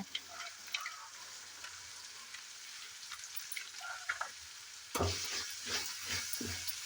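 Masala for lemon rice frying gently on a low flame makes a faint, crackling sizzle with light stirring taps, then a louder burst of spattering and scraping near the end, and no one speaks.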